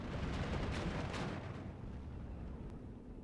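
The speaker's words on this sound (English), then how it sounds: "ME410 gets the bombing strike in on the Legionnaire" An ME410 bomber's strike in the Steel Division 2 war game lands as a loud, rumbling blast that rolls on for about a second, then fades into a lower, steady din.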